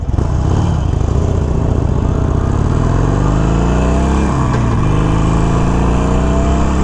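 A 2021 Harley-Davidson Iron 883 rides with its stock exhaust, a loud, close V-twin rumble that holds steady and then shifts pitch as it moves through a gear change.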